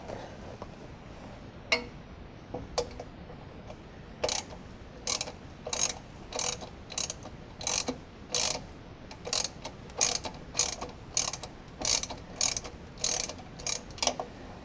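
A ratchet clicks as it backs a starter motor bolt out of a car during a high-torque mini-starter swap. A few scattered clicks give way to a fast, steady run of sharp metallic ticks, fairly close, with no talking.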